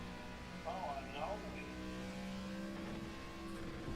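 A race car engine in the iRacing sim game hums and revs at moderate volume beneath someone talking, with a few brief pitch changes as it shifts.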